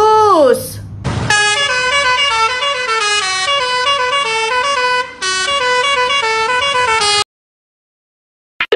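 A bus horn sounds as a bright, sustained musical honk, a rising tone first and then a long melodic multi-note toot that breaks briefly midway, loud and close, then cuts to silence.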